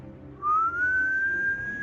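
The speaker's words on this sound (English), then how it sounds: "create a whistling howl" Salty sea wind whistles through a narrow tower window: one thin, clear tone that swells in suddenly, rises slightly in pitch and then holds steady, fairly loud against a quiet, low background.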